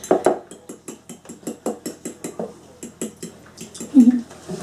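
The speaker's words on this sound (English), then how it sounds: "Give it a good whisk" Spiced rum mixture for a Christmas pudding being whisked in a bowl, a quick regular rhythm of metal tapping and clinking against the bowl, close and fairly loud, with a brief voice near the end.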